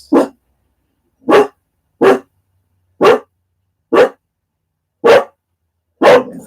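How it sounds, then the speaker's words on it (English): A dog barks seven times, loud and close, in single sharp woofs spaced roughly a second apart, with silence between them and no voices. "And let the dog bark."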